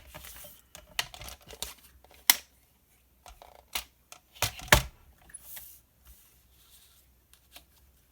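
Scissors snip paper down to size for page protectors during scrapbooking, a series of crisp close cuts and paper rustles in irregular bursts, loudest around the middle, then trailing into faint handling noises.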